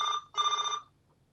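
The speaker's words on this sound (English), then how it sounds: "my phone is going nonstop" Two short bursts of an electronic phone ring, close and clear, followed by quiet.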